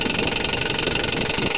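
A 1963 Johnson 5.5 hp twin-cylinder two-stroke outboard idles on a small boat with a steady, even purr and a light rapid knock, close by and without speech.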